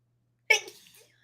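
One sudden sneeze bursts out after a short silence, close and fairly loud, then trails off into a faint breath.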